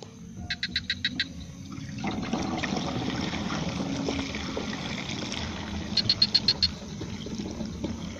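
Pesticide solution is poured into a crop sprayer tank for treating chili plants, making a continuous splashing, filling trickle. Short bursts of rapid clicking come at the start and near the end.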